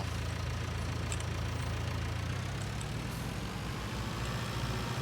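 A small backhoe tractor engine idles steadily at close range, a continuous low rumble with a lumpy, even pulse holding level for the whole stretch, with no voices over it.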